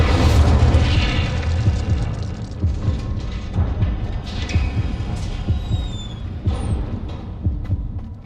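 A fiery Incendio spell bursts in a video game with a deep, rumbling boom that rolls on steadily for several seconds, loud and dense, with faint whistling tones above it near the end.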